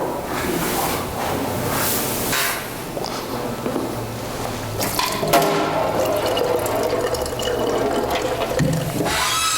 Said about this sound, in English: I'll just dump the water here.